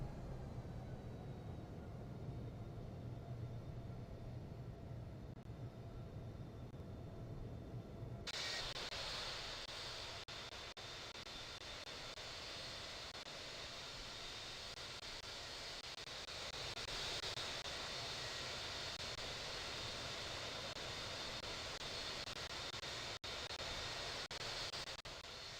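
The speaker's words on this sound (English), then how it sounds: "there goes Swagmaster, and let's hold short, runway 7" An airliner's engines roar steadily in the Infinite Flight game during a Flair Airlines departure at Toronto Pearson. A constant broadband rush thickens abruptly about a third of the way in and holds as a dense, even wash to the end.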